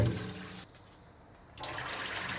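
Rinse water for sushi rice is poured off in a steady broadband splash, running close and fairly loud, then briefly dropping to a quieter trickle before the rushing flow resumes.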